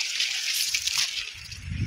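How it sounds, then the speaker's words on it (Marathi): Irrigation water gushing and sloshing as it flows into a sugarcane field, a close, steady rushing splash with no voices. "तर ऊसावर पाणी चालू आहे"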